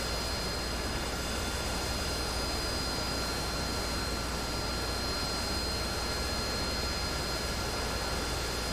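A Harrier jet engine roars in a video game, a loud, constant broadband rush that holds steady without a break and with no voices over it.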